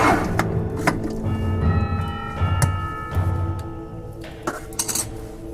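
Canned pumpkin goes into a metal mixing bowl with repeated clinks and clanks of a utensil against metal, some of them ringing on for a moment, close and fairly loud.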